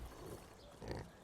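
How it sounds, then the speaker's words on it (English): Pigs grunt in a farm simulator game, two soft low bursts of grunting over a steady background hum, fairly quiet and close. "Yep, pigs."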